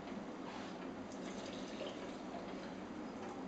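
Faint, steady splashing trickle of water poured into an automatic Turkish coffee maker for four cups, continuous and soft with no voices.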